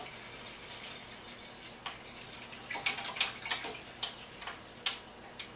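Distilled water trickles and splashes into a tank holding three tadpoles and a frog, a series of soft, bright pours and drips growing busier midway, fairly close and quiet with no talking.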